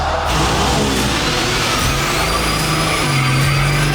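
A modified Ford Mustang known as the Smokestang, a diesel-swapped build, revving loudly up close as it pulls off, a dense continuous engine roar with rising pitch toward the end.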